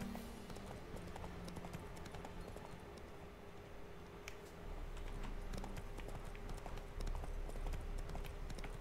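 Hooves of Geralt's horse Roach in Witcher 3, a steady clip-clop of trotting through forest, continuous and moderately close with a faint low rumble underneath.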